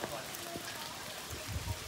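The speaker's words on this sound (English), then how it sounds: "Even it's raining." Rain falls on a mountain village, a steady broadband hiss of drops with a few low thumps and faint background activity.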